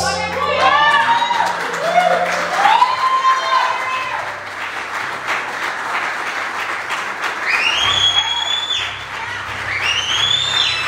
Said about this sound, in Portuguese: Se você puder aplaudir mais o Senhor Juliano